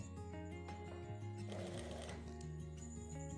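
Sewing machine running steadily up close as it stitches the hip side seam of a kurti, a continuous rapid mechanical whir with brief changes in pace and no talk.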